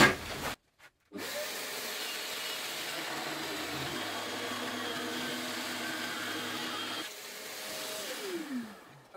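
A Peugeot 18V cordless jigsaw cuts through wood at a low oscillation setting, giving a steady, close buzzing saw drone that starts after a short pause, runs for about six seconds, then winds down, with no talking.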